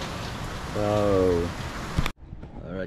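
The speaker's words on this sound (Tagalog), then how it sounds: "lumakas ang ulan. Oh my goodness, ngayon ang lakas na naman." Heavy rain pours in a steady, loud hiss around a small hut in the morning while a voice exclaims briefly over it; the sound cuts off sharply near the end, then resumes more faintly.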